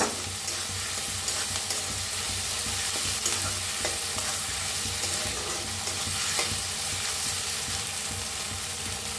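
Tomatoes fry in a pan with a steady, crackling sizzle that stays even throughout, broken by light stirring scrapes, with no voices present.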